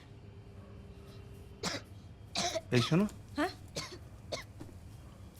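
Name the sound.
person coughing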